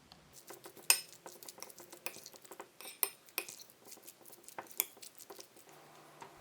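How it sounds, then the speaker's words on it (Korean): Drained canned tuna being mixed with a big spoonful of mayonnaise in a bowl, quiet irregular spoon scrapes, soft squelches and a few sharper clinks against the bowl, close and unhurried with no talking. "참치 한 캔은 기름을 뺀 후 반만 꺼내서 넣고, 마요네즈 크게 1스푼 넣고 버무렸다"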